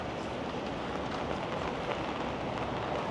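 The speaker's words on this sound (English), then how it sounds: "the rain is starting to pick up again" Steady rain patters densely on surfaces outdoors on a Tokyo street, a continuous, even hiss of many drops at moderate volume with no talk over it.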